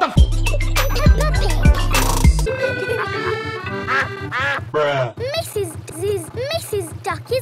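A cartoon duck from Peppa Pig quacking in a loud, rhythmic string of quacks with music and bouncy sound effects, and a duck voice that is likely performed.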